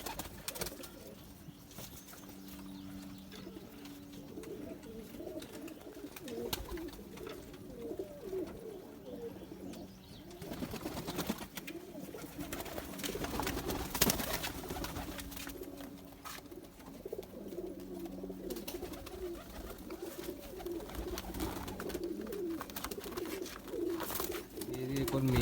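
Silver zero Zeera pigeon cooing steadily in a loft, soft repeated low coos running throughout at moderate distance, with faint background voices and other bird noise.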